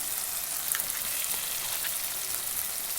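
Spice masala fries in a pan for a country-style chicken curry, a continuous dense sizzle with faint crackles and no voices, steady and close throughout.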